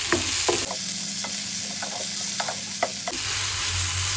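Tomatoes being sautéed in a pan until mushy, for liver pepper fry, with a strong close sizzle and repeated scraping stirs; the hiss drops briefly in the middle, then returns.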